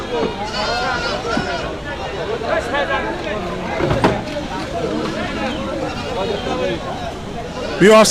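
Goats bleat intermittently amid a busy village livestock market in Tangail, Bangladesh, with people talking and a general crowd murmur throughout.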